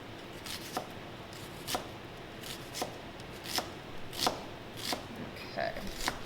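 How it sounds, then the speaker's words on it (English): Knife chopping through an onion on a cutting board while making creamy tomato soup, with a series of sharp, evenly spaced taps close by against a faint room background, no one talking. "So then I'm just gonna dice an onion here"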